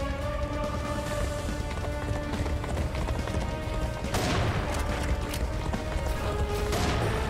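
Horses gallop in the video game Serious Sam Siberia: dense, rumbling hoofbeats over a loud, continuous game soundscape with booming, crashing effects throughout.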